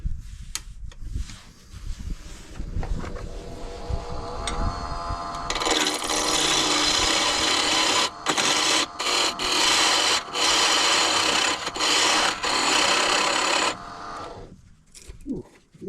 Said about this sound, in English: I am going to start with my carbide just to kind of get this into the 3/4